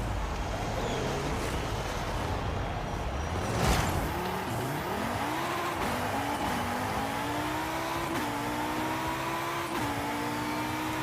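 A KTM X-Bow GT4 race car in Forza Horizon 5 drives hard, its engine rising steadily through the gears with loud, continuous revving and short dips at each shift.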